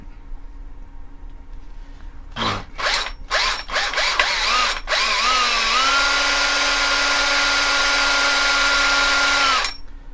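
A power drill whines in short bursts, then runs steadily for several seconds as it bores into a small turned wooden flower, loud and close.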